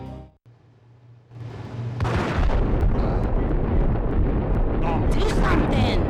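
Gunfire erupts in the Max Payne PS2 game at Lupino's Hotel: after a brief quiet hum, a sustained, loud barrage of shots and booming bursts fills the scene, dense and continuous to the end.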